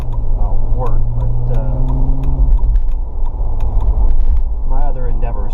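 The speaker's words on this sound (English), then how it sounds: "start out with me backing out of my work parking place" A car backing out of a workplace parking space, its engine running low and steady throughout with faint clinks, while someone talks over it.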